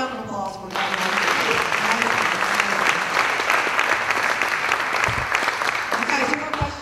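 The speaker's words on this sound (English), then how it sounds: "Let's give them a round of applause for that." An audience at a live event with a question session breaks into sustained, dense applause that holds steady for several seconds, with a voice briefly heard just before it starts and again as it tapers off.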